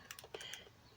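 Keys tap quickly while a game name is entered into the Atari VCS search bar, a short burst of faint, close clicks with no talk.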